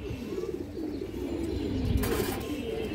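A Kajla pigeon with gear-stone eyes coos in a steady, low, rolling murmur, fairly close, with faint chirps and a brief rustle from other birds in the loft.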